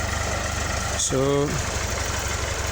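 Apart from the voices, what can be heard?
tractor engine ploughing a pineapple field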